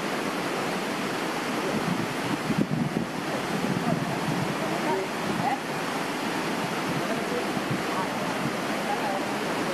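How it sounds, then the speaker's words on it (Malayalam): Water rushing down the Punnayar waterfall in Kanjikuzhi, Idukki, a continuous broad roar with wind buffeting the microphone, steady throughout. "മുകളിൽ നിന്ന് വിടുന്ന വെള്ളമാണ് തോന്നുന്നുണ്ട് വെള്ളച്ചാട്ടത്തിൻ്റെ."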